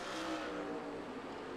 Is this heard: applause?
no